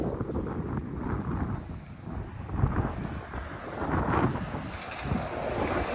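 Gusty wind buffets the microphone on Broadview Avenue in Toronto, a continuous low rumbling roar that swells and eases throughout, with no voices.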